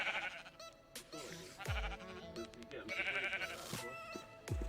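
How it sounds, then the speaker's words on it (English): Goats bleat several times in a modded Minecraft farm, repeated wavering calls over a busy layer of game sounds and music. "We also have the goats with the auto feeders."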